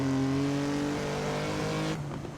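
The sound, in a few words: racing sim car engine upshifting into fourth gear, from a video game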